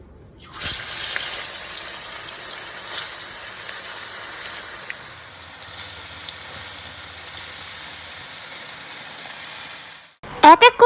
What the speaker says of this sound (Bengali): এক এক করে সব লোটে মাছগুলো দিয়ে দিলাম কড়াইতে